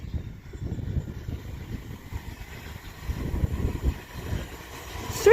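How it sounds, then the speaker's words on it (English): A doubled-up London Northwestern Railway Class 350 electric train passes through West Allerton on the West Coast Main Line Liverpool branch, giving a steady rolling rumble that swells and ends loud and close. "Now passing through is going to be another London North Western Railway Class 350."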